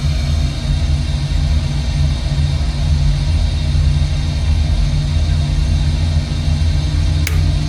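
Boeing 737-800 engine spooling up during a start in the Prosim737 flight simulator: a steady, loud low rumble and drone held throughout, with a brief faint click near the end and no speech.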